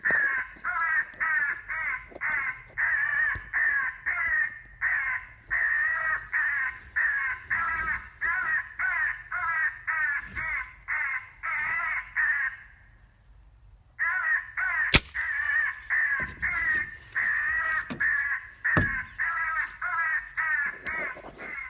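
Rapid, harsh caws from an electronic crow caller set to a crow-fight sound, repeating loudly and continuously with a short pause midway, alongside a sharp outdoor bang.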